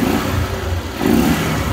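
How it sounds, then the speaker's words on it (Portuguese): A small 4mm motorcycle engine with a custom-built cam, original carburetor and original exhaust revs close by, a steady mid-pitched drone that swells again in a second burst of throttle, with no talk. "Deixa eu acelerar aqui."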